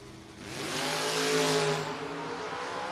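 Chevrolet S10 drag racing truck at a no-box 660 shootout, engine roaring and building as it launches and accelerates, loud and sustained, with the tone rising and then easing off.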